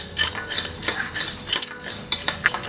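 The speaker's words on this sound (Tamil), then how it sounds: "அதையும் போட்டு வறுத்துக்கலாம்" Red rice dry roasting in a pan, with quick metallic scrapes and clinks of a spoon stirring the grains, close and busy, with no talk.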